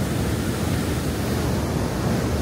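Fast-flowing river water rushing where the flow of several states gathers, on a road trip toward Leh Ladakh; a steady, loud, dense roar of broadband noise throughout, with no pauses and no voices.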